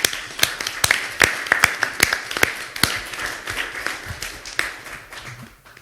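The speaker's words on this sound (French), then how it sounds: "Voilà, on peut l'applaudir." Applause breaks out at a municipal council meeting: a burst of many hands clapping, dense and fairly close, with sharp individual claps standing out before it gradually thins and fades away.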